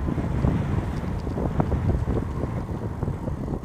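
Steady, loud wind buffeting the microphone while riding a bike on a wheelie practice outing, a continuous rumbling roar with no pauses and no voices.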